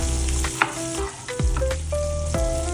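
Pork chops sizzle loudly and steadily on a grill, a dense hiss broken by a few brief scrapes and faint squeaky tones.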